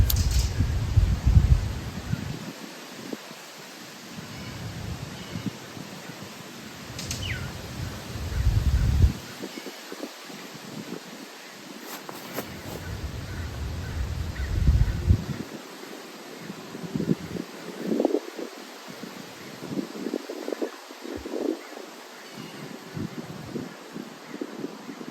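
Strong outdoor wind gusting and buffeting a microphone, loud low rumbling bursts coming and going over the whole stretch, with a faint crow cawing in the background.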